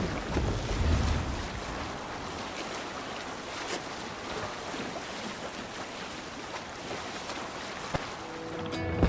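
A Viking longship under sail in the video game Assassin's Creed Valhalla, with steady broadband rush of waves, water and wind noise running throughout, a louder swell near the start and at the end.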